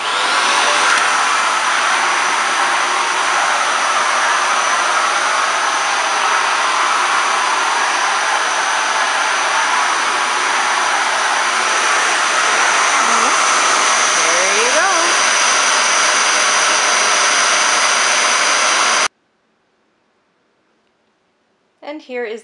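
A Dyson Cinetic DC78 vacuum cleaner with turbine head runs close by, a loud, steady high-pitched whine and rushing airflow that holds constant for about nineteen seconds before switching off abruptly, followed by brief near-silence.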